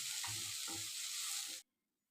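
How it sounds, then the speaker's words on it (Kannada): Sliced okra (bhindi) sizzling in hot oil in a heavy-bottomed pan, a steady loud fry with a few soft stirring bumps, cutting off abruptly to silence near the end. "ಒಂದು 4-5 ಮಿನಿಟ್ಸು ಎಣ್ಣೆಲೆ ಇದು ಚೆನ್ನಾಗಿ ಫ್ರೈ ಆಗಬೇಕು."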